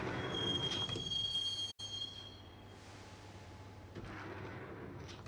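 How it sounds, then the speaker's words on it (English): A train ride in the Max Payne video game: a steady rolling rumble with a thin high wheel squeal early on, a brief cut of silence near two seconds, then continuous carriage noise. "the train doors had already shut behind me, and I was in for the ride"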